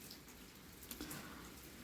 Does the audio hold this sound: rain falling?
yes